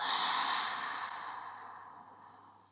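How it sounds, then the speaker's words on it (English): A single long, soft exhale through an open mouth, breathy and airy, starting strong and gradually fading away over a few seconds in a quiet room. "Maybe open the mouth, exhale."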